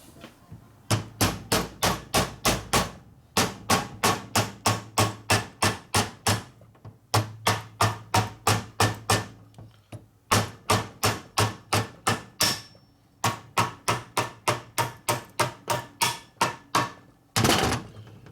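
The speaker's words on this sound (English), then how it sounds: "We just get out our plastic hammer here, we just knock them in with that." Repeated sharp plastic hammer blows knock parts into a 2001 Indian Scout motorcycle engine during a rebuild, steadily in quick rhythmic bursts of about eight to ten strikes, separated by brief pauses, close and fairly loud.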